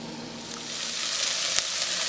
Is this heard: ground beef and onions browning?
yes